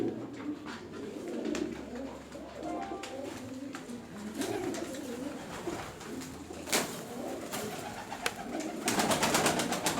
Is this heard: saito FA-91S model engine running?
no